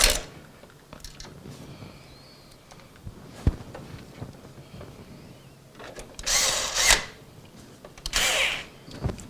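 A power screwdriver drives fine-threaded screws into an Antec Dark Avenger PC case, giving several short whirring bursts with a couple of louder, harsher runs near the end, close and otherwise quiet with no talk.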